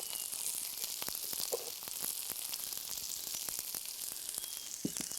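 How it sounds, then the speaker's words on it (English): Bits of crystallised pineapple tipped into a hot pan give a loud, steady sizzle, dense and hissing, with scattered sharp pops and crackles throughout. "First, I'll tip in my bits of crystallised pineapple."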